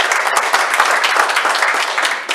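Dense, close clapping from a seated audience at a panel discussion in a conference hall, steady and loud for a couple of seconds.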